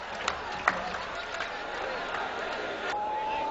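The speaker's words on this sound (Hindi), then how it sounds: "एक बार तालियां बजाकर आप लोग इस्तकबाल करें" An audience at a 2010 mushaira in Pratapgarh applauds to welcome a poet, giving a steady wash of clapping and crowd noise at moderate loudness.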